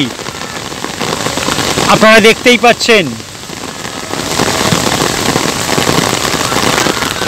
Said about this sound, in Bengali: মুষলধারে বৃষ্টি